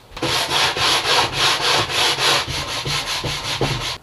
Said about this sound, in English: A little bit of sanding here and there, and that'll look gorgeous.